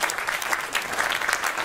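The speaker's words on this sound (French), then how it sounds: "Je vous demande d'applaudir très chaleureusement Nazia Zenaf." Audience applauding warmly for an apprentice introduced on stage at a round-table event on apprenticeships, a dense, steady wash of clapping throughout with no talk over it.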